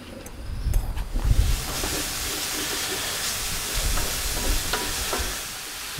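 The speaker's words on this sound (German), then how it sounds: "In die Pfanne können wir gleich unseren Speck geben, denn den wollen wir auslassen." Bacon sizzles in a 45 cm pan over charcoal, a loud, continuous frying hiss with brief crackling bursts near the start.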